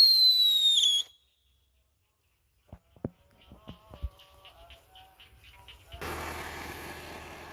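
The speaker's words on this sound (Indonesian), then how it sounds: "ini dia yang terakhir super bal, petasan jumbo teman-teman, yang sudah kita bungkus pakai kertas" A high whistling tone fades, then after a pause a jumbo firecracker wrapped in paper goes off with a sharp bang, followed by a burst of crackling pops, ending in a sustained loud rushing roar.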